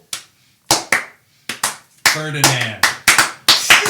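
One person claps slowly several times, then a few sharp claps sound close while a voice speaks briefly over them.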